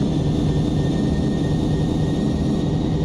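Airbus A321-211 jet engines roaring steadily at takeoff in a Flight Simulator X cockpit, a continuous loud low rumble with a faint high whine on top, no voices.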